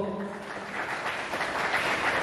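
Audience applause at a Hul Diwas 2024 gathering of an Adivasi welfare society in Berhampore, Murshidabad, honouring Manoranjan: a steady, dense patter of clapping that holds for the whole stretch with no voices over it.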